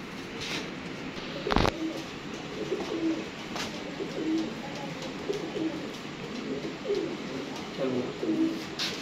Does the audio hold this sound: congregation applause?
no